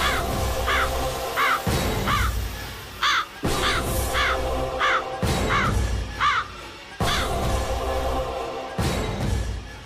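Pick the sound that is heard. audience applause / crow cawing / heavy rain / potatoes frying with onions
crow cawing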